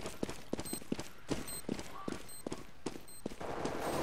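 Gunfire in a Counter-Strike: Global Offensive match: a string of sharp, fairly loud shots spaced about half a second apart, some in quick pairs, with game noise and faint voices between them.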